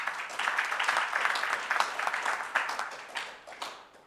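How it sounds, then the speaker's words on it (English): Moderate audience applause at a stakeholder roadshow event, a busy patter of many hands that swells early and then tapers off gradually. "Can't we give her a round of applause?"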